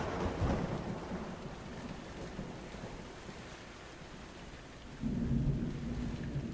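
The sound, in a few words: thunder peal in a storm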